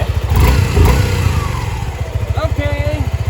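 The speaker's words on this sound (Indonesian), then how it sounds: "Kita mulai menyalakan motornya ya." A Suzuki V-Strom 250 SX motorcycle engine starts and revs, a throbbing close mid-range rumble that surges and settles into a steady pulse while a person talks over it.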